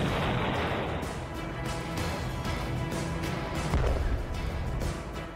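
Artillery cannon fire from footage of the war in Ukraine comes as a dense, rumbling roar with repeated booming blasts at close range. The noise is loud and continuous, with no talking.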